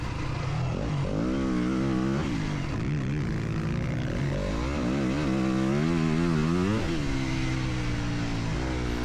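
A 2025 Yamaha YZ250FX dirt bike engine revving loud and close while riding, its pitch rising and falling through throttle changes and gear shifts over a continuous drone.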